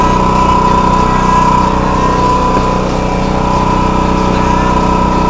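A toolbox-style portable generator runs nearby with its alternator charging a battery, producing a loud, steady small-engine drone with a constant hum and no speech.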